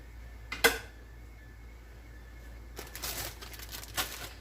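Vegetables for fried rice tossed into a pan, a sharp rattling clatter near the start, then a stretch of quieter crinkling and sizzle-like scraping with a few louder knocks near the end.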